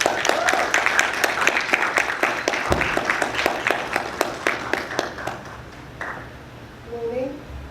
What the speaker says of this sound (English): give it a round of applause and help us welcome the panel down